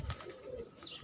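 Faint, soft cooing of pigeons kept on a rooftop loft, a few low murmuring calls close by with a brief flutter of wings, quiet against light background noise.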